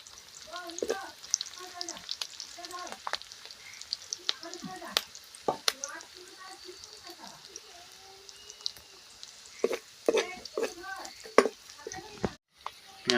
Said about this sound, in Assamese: পিঁয়াজখিনি এতিয়া মই অকণমান ভাজি ল'ম।